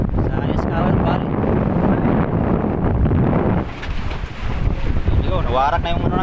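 Strong sea waves and gusting wind batter a small boat at sea off the west Philippines, making a loud, constant roaring rush with heavy buffeting and a brief voice near the end.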